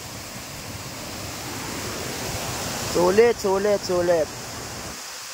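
A steady rush of flowing river water runs throughout, with a few excited vocal exclamations near the end.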